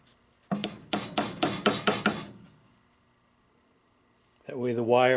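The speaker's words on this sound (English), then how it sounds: "And I can just hammer these in." About seven quick, sharp hammer blows ring out in a rapid series as pieces are hammered into wooden beehive frames, followed by silence and then a voice starting to talk.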